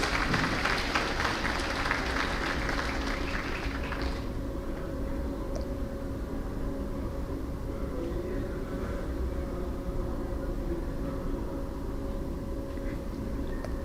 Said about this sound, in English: Please applaud our wonderful candidates.